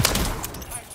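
Gunfire in the video game Call of Duty Modern Warfare 3, with an auto shotgun: a quick burst of loud shots at the very start, then scattered lighter reports under ongoing game noise.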